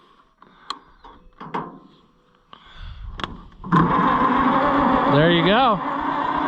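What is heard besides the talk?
car engine cranking and starting with NAPA Carlyle jump box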